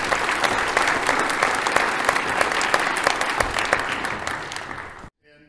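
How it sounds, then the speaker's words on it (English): An audience at a Ferry County emergency responder appreciation gathering claps loudly and continuously for about five seconds, then the applause cuts off abruptly. "So I think a round of applause for those folks."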